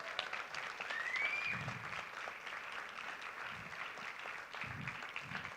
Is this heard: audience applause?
yes